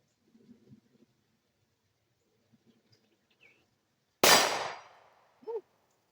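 A single loud 9mm pistol shot cracks out, followed a second later by a short metallic ring from a steel target, with faint handling noises before it.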